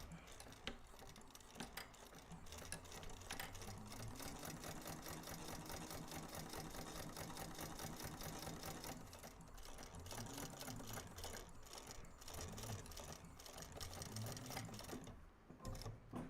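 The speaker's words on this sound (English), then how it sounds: "then you come back and do another line of stitching." A sewing machine runs steadily while stitching a line on a bag, its fast even whirring holding almost unbroken for the whole stretch with only brief pauses near the end.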